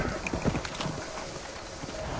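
Horse hooves clip-clopping in the Red Dead Redemption video game, a quick irregular run of close thuds early on that fades into a steady bed of wind-like noise, with no one talking.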